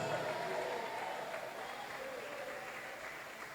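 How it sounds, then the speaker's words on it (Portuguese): A church congregation applauding steadily, a dense wash of clapping from many hands that carries on evenly without pause. "Vamos aplaudir e dar glória a Deus."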